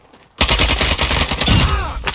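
Gunfire in the Call of Duty Warzone 2.0 video game, DMZ mode: after a brief quiet moment a loud, dense barrage of rapid shots erupts and continues, close and sustained, with a whining tone rising over it near the end.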